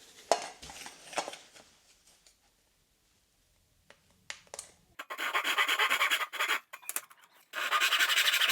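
Wooden vintage dresser edge being hand sanded into a curve, short scratchy rubbing strokes at first, then long steady rasping bursts up close after a pause.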